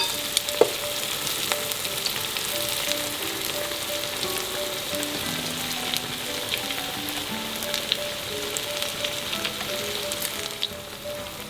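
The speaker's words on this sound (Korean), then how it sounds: "요거는 두 번째 튀기는 거예요." Battered Korean zucchini with egg white in the batter gets its second fry in hot oil. A steady, close, even sizzle with fine crackle runs throughout, with no voices.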